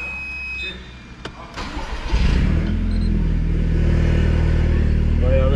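A Seat Leon Cupra with a 2.0 TFSI engine, recently repaired for a cylinder one misfire, cranks briefly then catches and settles into a loud, steady idle rumble close by.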